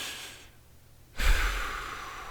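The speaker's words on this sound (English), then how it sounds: "He took a deep breath and let it out." A single deep breath from a man, a quiet slow inhale followed by a louder, close exhale that trails off.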